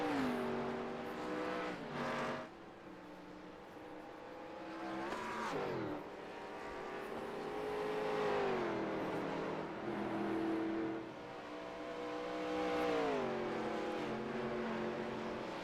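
Vintage race cars climb uphill through the S's at Watkins Glen, engines droning loud and near with rising and falling harmonic pitch as they shift and accelerate, several cars blending into one continuous roar.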